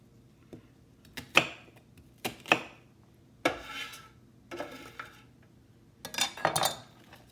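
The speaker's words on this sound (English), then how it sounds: "we'll just give this a quick chop" A peeled vegetable, its papery skin removed, is quickly chopped on a board for a holiday dressing: about seven or eight sharp, separate knife strikes at an uneven pace, close and fairly loud, with no speech.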